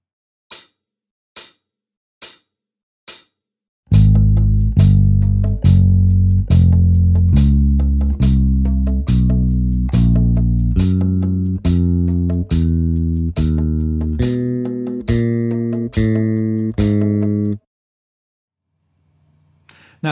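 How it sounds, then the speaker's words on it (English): Single plucked notes ring out first, then a bass guitar plays a steady finger exercise backwards across all four strings, one evenly spaced note at a time, loud and close, ending in near silence. "we're going to apply that across all four strings of the bass"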